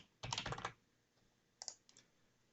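Typing on a computer keyboard while filling in a home address for a USA Wrestling Kansas account registration, a quick burst of clustered key clicks followed after a pause by a few scattered, softer taps, close and with no voices.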